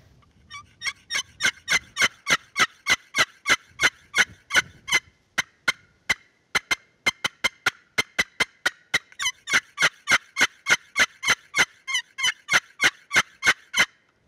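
A turkey box call is run hard as a loud, shrill, high-pitched locator call, firing a long rapid series of sharp, evenly spaced yelps up close with a brief pause midway.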